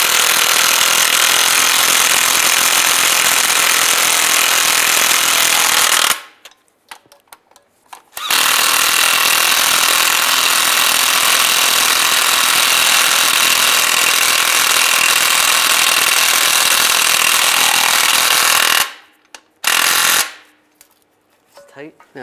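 Power tool tightening bolts on a transmission mount of a 2007-2013 Chevy Silverado, running loud and continuous in two long bursts with short pauses between, close by.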